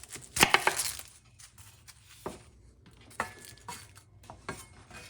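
A knife chops half a large yellow onion on a cutting board, giving a handful of irregular, crisp taps spaced apart, with a brief clatter of utensils near the start in a quiet kitchen.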